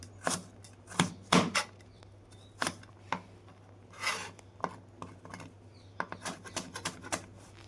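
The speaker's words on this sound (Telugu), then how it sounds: "క్యారెట్ కూడా ఈ సైజు మనం కట్ చేసుకోవాలి ఇలాగా" A knife chops a carrot into pieces on a board, with quiet, irregular clicking cuts in short bursts and a low steady hum behind them.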